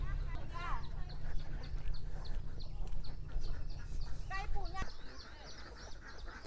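Sick ducks quack in short bursts over a constant low rumble, a few calls close by and others further off.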